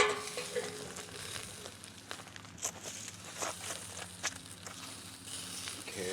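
Parmesan sliders sizzle on a Kingsford 17-inch portable grill with a soft, steady crackle. Scraping and clicking from the spatula mark each flip over the frying hiss.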